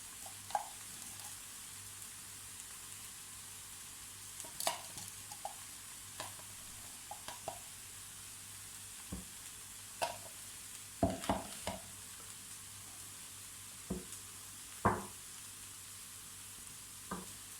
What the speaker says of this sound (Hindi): और मैं डालूँगी इसमें सब्ज़ मिर्च